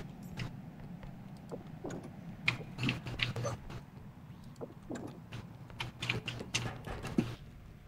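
Computer keyboard typing clatters in irregular bursts of light clicks and taps throughout, moderately close under a low background hum, with no voices.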